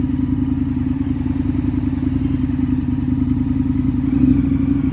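An Indian FTR1200 motorcycle engine runs steadily up close with a deep rumble and mechanical clatter, swelling briefly in a short rev near the end.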